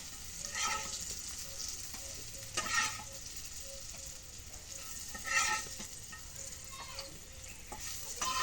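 Food sizzles in a hot pan, a steady crackling hiss with occasional louder swells as it is stirred, no talking.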